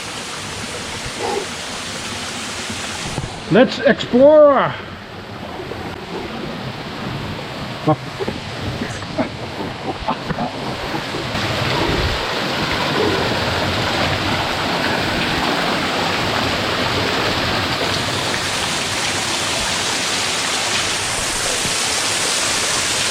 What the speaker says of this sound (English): But this waterfall, wow.